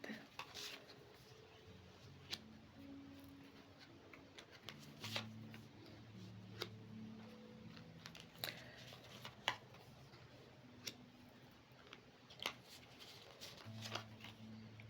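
Tarot cards shuffled and cut into piles, with soft repeated riffling and sharp card taps scattered through a quiet room, faint and close.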